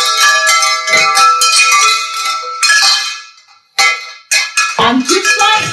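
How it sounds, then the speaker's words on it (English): Metal wind chimes in a garden ring loudly in repeated clusters of bright, sustained tones, pausing briefly before jangling again as the wind moves them, with no talk. "I've got some wind chimes that I'm going to show you. And when the wind blows, they're really noisy."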